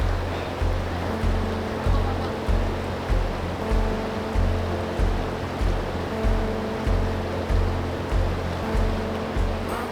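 River water rushes steadily at a river crossing in the Cairngorms, a continuous broadband wash with a regular low pulsing beneath it, close and moderately loud, with no speech.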